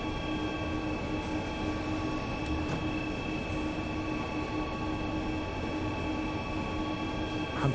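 A locomotive running in the Train Sim World 3 simulator on a Kassel route, a steady droning engine and rolling rumble with constant tonal hums, sustained and fairly loud throughout without talk.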